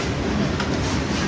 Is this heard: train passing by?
yes